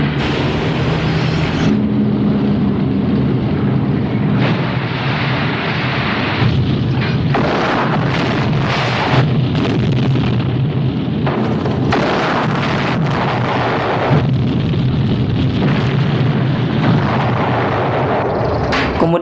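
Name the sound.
massive repeated explosions of fuel depots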